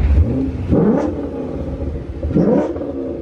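A tuned car with a 3200 stall converter, running on pump gas and making 415 horsepower at the wheels, revs up loudly twice in quick bursts over a steady close engine rumble.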